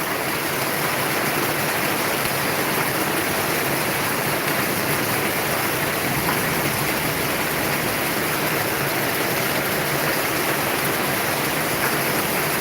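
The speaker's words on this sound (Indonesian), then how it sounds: "Tuh, hebat banget hujannya." Heavy rain pours hard onto a luxury-class bus arriving at a Palembang terminal, a dense, steady broadband roar like a waterfall that holds unbroken and loud throughout with no voices.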